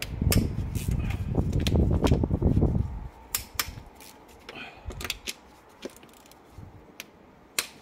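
Ratchet wrench working on a BMW E39 front end, a dense burst of rapid clicking for about three seconds, then a few sparse, sharp single clicks and taps.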